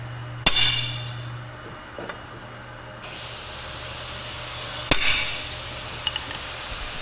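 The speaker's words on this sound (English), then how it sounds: "Always good to center punch before you drill." A hammer strikes a center punch into aluminum on a boat trailer bracket in a welding shop, giving two sharp metallic taps several seconds apart over a steady low hum and background hiss.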